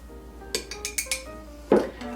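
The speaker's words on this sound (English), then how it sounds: "Okay, so we'll stir those up." Gluten-free mug cake batter being stirred by hand, a utensil clinking against a mug in a series of short, irregular taps with one louder knock near the end, close and fairly quiet, with no talking.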